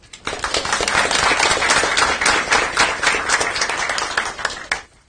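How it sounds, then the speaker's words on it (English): An audience at a county commissioners meeting claps loudly and steadily for about five seconds, close and dense, then the applause fades out. "Give them applause."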